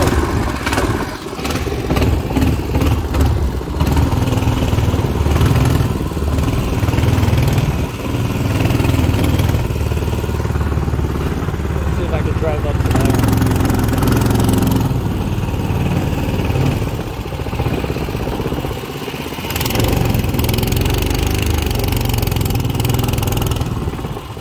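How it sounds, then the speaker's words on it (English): A Predator 224 engine on a longtail mud motor boat runs steadily at a loud, close idle, its mechanical clatter continuous throughout with a couple of brief surges. "So the engine's still running."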